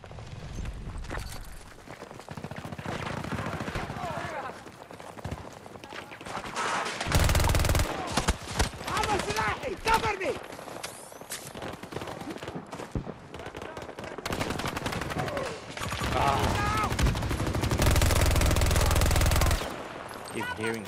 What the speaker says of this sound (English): they started shooting me from behind